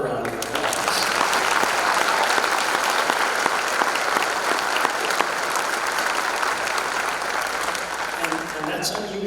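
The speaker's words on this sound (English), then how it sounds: "so give them another round of applause" Audience at a high school spring band concert applauding band students, a loud, dense, sustained clapping crowd filling the room from start to end.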